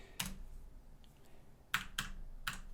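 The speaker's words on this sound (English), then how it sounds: "Press up on our keyboard to get our previous statement back" Keys on a computer keyboard are pressed one at a time at a quiet desk, giving several crisp clicks spaced unevenly, with one lone tap and then a quick run of three or four strokes, with no voices.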